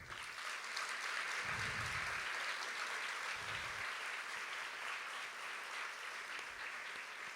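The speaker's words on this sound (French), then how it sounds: "je vous propose aussi de les applaudir" Steady applause fills a hall at a university graduation ceremony, a dense, even wash of clapping from a large audience sustained throughout without voices.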